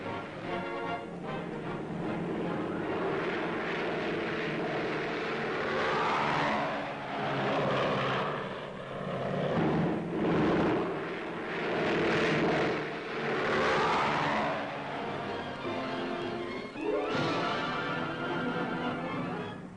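Troop-carrying transport planes of the 1st Allied Airborne Army taking off, a long, loud roar of propeller engines that swells and fades as aircraft pass, with no speech.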